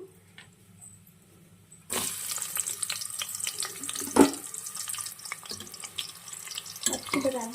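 Onions dropped into hot oil start a sudden sizzle that hisses and crackles steadily, fairly close, after a quiet lead-in, with a few sharper pops along the way.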